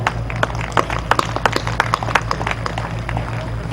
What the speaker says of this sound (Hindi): मेरे स्वागत में आपने जो घनघोर तालियां बजाई हैं